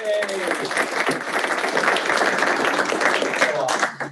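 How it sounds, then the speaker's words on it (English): A room of colleagues at a team meeting gives a round of applause, loud and close, with the clapping dense and sustained before tapering off at the end. "In fact, give them a round of applause."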